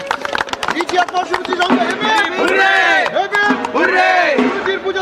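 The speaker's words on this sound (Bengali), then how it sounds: "আর জোরে হাততালি সুরুচির সঙ্গের জন্য" A crowd at a Durga Puja award celebration for Suruchi Sangha claps loudly in the opening seconds, then breaks into whooping and cheering voices that swell and carry on to the end.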